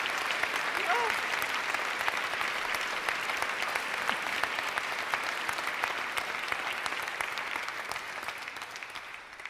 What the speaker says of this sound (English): Now that we've given that raucous round of applause